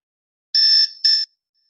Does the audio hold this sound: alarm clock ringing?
yes